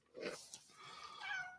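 A cat gives a couple of quick, faint meows close by, with a short rising call first and a longer wavering one after, in a quiet room.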